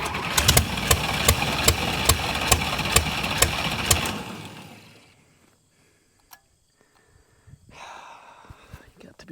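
An old engine on a barn-find 1956 dragster runs roughly with regular sharp pops for about four seconds, then dies away into near silence, followed by faint clicks and handling noises.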